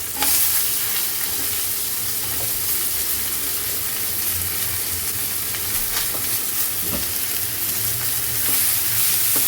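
Steady sizzling and crackling of onions frying in a pan, close and continuous, with occasional louder pops and stirring scrapes.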